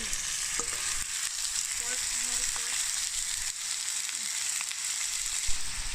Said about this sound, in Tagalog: igisa lang natin ang sibuyas at bawang. And then, ilagay na natin itong karne.